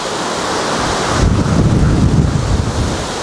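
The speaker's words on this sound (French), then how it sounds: "j'espère que ça va pas faire trop de bruit dans le micro, mais là il y a vraiment beaucoup de vent" Strong wind buffets a microphone out by open water, a roaring rush that grows louder and gustier partway through and drowns out everything else.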